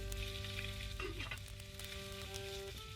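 Fish frying in Day R Survival, a steady close sizzle with crackling and a couple of brief stirring clatters, over a constant low game hum and no speech.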